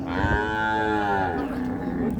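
A single cow at a livestock market lets out a long, loud moo that holds steady, then fades into the murmur of the market, close by with no speech over it.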